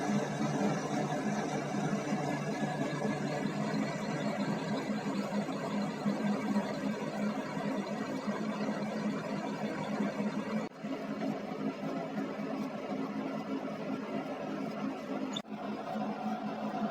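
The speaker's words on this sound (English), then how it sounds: "Now we started the chamfering operation here" A lathe chamfers a mild steel rod in a machine shop, giving a steady mechanical whir and hum at moderate level that runs unbroken, with a couple of brief clicks late on and no talk.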